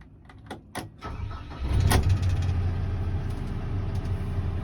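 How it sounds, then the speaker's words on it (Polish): A few faint clicks, then the diesel engine of a 2015 HAMM DV+ 90i VV-S asphalt road roller cranks and catches, settling into a steady, loud low rumble as it idles. "bez problemu maszyna odpaliła"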